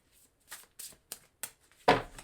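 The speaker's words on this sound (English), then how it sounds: "let's get these cards shuffled" Tarot cards are shuffled by hand, close up, in a handful of soft riffling bursts spaced apart, ending with a louder, fuller riffle.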